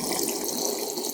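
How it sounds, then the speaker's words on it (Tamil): Water gushes from a tap pipe in a kitchen during preparation of a buttermilk curry, a brief, steady hissing splash heard close up without any talk. "தண்ணியை வந்து திறந்து விடுவோம் பைப்லேருந்து"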